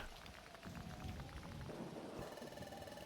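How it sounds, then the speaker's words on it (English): Stormy rain and thunder in Pokemon Mystery Dungeon: Explorers of Sky, a continuous hiss of rain with low rumbling beneath, faint and unbroken over a few seconds. "The storm is causing the ground to shake."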